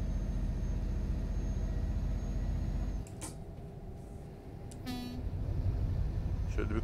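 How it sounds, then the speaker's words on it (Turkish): Euro Truck Simulator 2 truck horn giving a couple of short honks over the steady rumble of the truck engine on a mine road near Kirkenes. "Şöyle bir kısa korna bastık."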